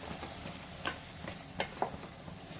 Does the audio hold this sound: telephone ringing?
no